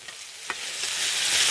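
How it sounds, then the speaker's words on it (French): Vegetables sautéing in a camp pan, a steady broadband sizzle that swells louder toward the end, with one or two brief scraping clicks of a utensil stirring them early on. "Et après je mélange le tout."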